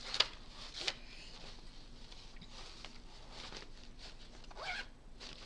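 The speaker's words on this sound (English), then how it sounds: "I'm having an issue zipping my bags today." A bag zipper is tugged in short, scratchy bursts, a few quick zips spread over several seconds, close and fairly quiet with no talk.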